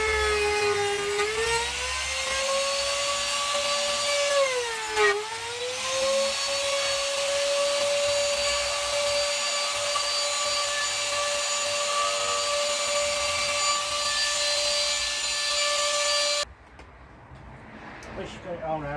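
An electric router cutting a mortice in a hardwood door using an adjustable lock jig, a loud continuous high whine with pitch dips as it bites into the wood, then cutting out and winding down.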